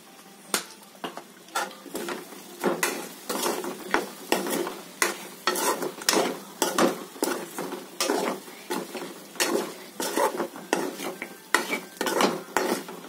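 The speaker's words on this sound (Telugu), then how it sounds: "ఈ మసాలాకి సరిపడా సాల్ట్ వేసుకొని ఒకసారి కలబెట్టుకుందాం." Chicken fry masala seasoned with salt is stirred in a hot sizzling pan, a spoon scraping the metal in steady repeated strokes over a constant frying hiss, close and clear with no talking.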